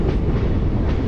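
The 13063 Balurghat Express runs on its rails approaching Bandel, a loud, close, continuous rumble with heavy low clatter from the wheels over the track, no voices.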